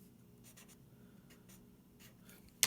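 Marker writing on a board during a physics lecture, with soft intermittent squeaky strokes over a low room hum and a brief louder knock at the end.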